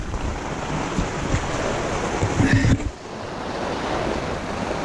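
Steady, dense wash of heavy rain drumming on the fabric of a rooftop tent close by, a continuous hiss with a brief louder patch before it settles again.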